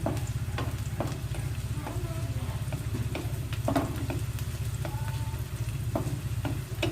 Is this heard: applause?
no